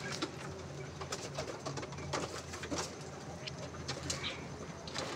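Pet pigeons kept at home coo softly nearby in repeated low, throaty calls, with a few light rustles and faint chirps in the background.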